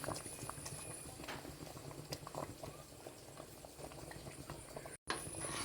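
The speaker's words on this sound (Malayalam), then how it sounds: "ഏലക്കായ ഇട്ട് നന്നായി നല്ലോണം തിളച്ചിട്ടുണ്ട്" Parippu payasam with crushed cardamom boiling in a pot: soft, rapid bubbling and small plopping pops, quiet and continuous, with a short break near the end.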